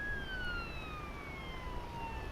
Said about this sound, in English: You hear a siren there.